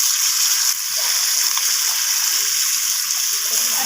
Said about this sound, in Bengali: তো আমি এখানে আলু আর পুঁইমিটুলিটা এইভাবে নাড়াচাড়া করে ভেজে নিচ্ছি।